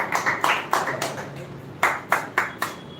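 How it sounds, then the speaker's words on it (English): A class of girls claps for a fellow student in short bursts, a few quick, fairly close handclaps, then a pause and another brisk round. "Clap for her."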